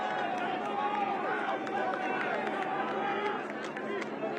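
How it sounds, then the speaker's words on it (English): Crowd of rugby fans cheering and chattering in a stadium, a steady wash of voices under continuous commentary from a broadcaster throughout. "you can still hear these fans cheering"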